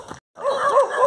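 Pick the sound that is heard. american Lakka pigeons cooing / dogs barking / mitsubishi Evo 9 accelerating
dogs barking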